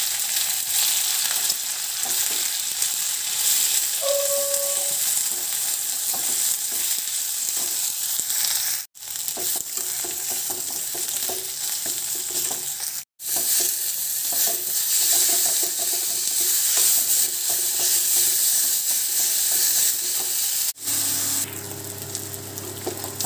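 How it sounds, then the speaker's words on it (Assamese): Onions and whole cumin seeds frying in oil in a wok, a steady dense sizzle running throughout with a few brief breaks and faint clinks, no talking. "বহুত দেৰি মানে মই ফ্ৰাই কৰোঁ, ভাজোঁ মছলাখিনি।"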